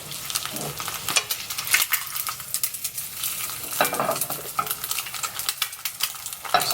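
Egg frying in a pan as fat sizzles steadily, with irregular crackles and pops rising and falling across the stretch, close and fairly loud, no voices.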